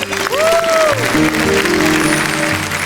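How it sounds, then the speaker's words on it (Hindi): Loud, sustained applause from a crowd, with whooping, whistle-like tones sliding over the clapping near the start. "जोरदार ताली।"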